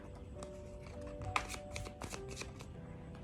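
A deck of tarot cards is shuffled by hand close by, giving quiet papery riffles and a few sharper snaps, with no talking.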